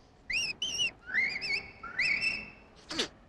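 A whistled tree pipit imitation gives two short wavering chirps, then longer rising slurred whistles that hold steady, ending with a brief sharp squeak, close and solo against a quiet background.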